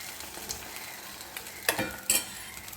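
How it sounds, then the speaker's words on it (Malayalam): Egg-soaked bread roasting in a pan gives a soft, steady sizzle, broken by two sharp scraping taps of a utensil near the end. "പാനിൽ വെച്ച് നമ്മൾ റോസ്റ്റ് ചെയ്തെടുക്കുന്നു."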